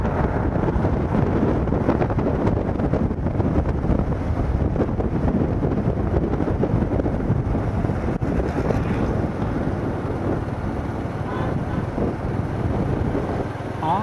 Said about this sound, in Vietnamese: Mùa này là mùa gió bớt cho nên gió rất là mạnh